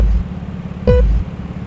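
Karts rev at the start of a team league race at TeamSport Leicester, a brief engine surge with a rising whine, over a steady low rumble.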